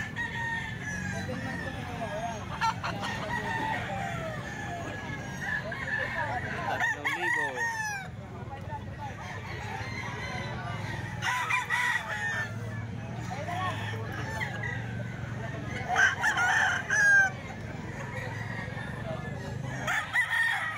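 A young stag rooster of the Golden Boy Sweater type crows repeatedly and clucks among other fowl, at moderate distance, with people talking throughout.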